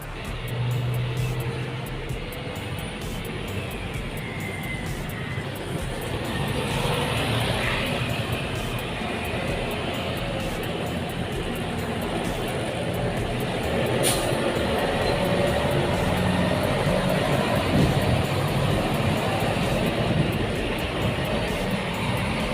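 A Kurnia Awi intercity bus passes along the Aceh–Medan road just after leaving the Sigli terminal. Its broad, steady road rumble swells through the middle and stays loud to the end, with no talk.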